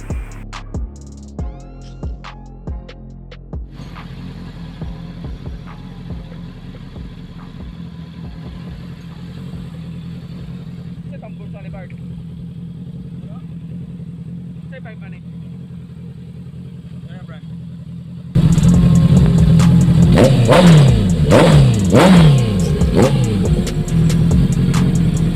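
A Honda CB650R motorcycle with a 649cc double overhead cam 16-valve engine settles into a steady, moderately loud idle, then breaks into sharp, loud throttle blips and revs near the end.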